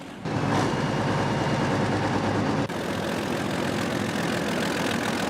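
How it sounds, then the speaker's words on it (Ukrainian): Heavy diesel engine of a 2S7 Pion self-propelled artillery gun running close by, a loud, steady low rumble with an abrupt shift in tone partway through, and no voices. "Самі лише розміри та звук мотора піона вже справляють враження"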